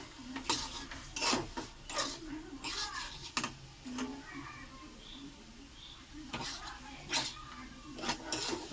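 Spices and chilli stirred in a cooking pan, soft scraping and clinking strokes at close range, fairly quiet, with a voice talking over parts of it.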